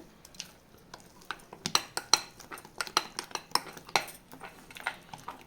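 A spoon stirs banana bread batter flavoured with cinnamon and vanilla in a bowl, producing an irregular run of close metallic clinks and scrapes against the bowl.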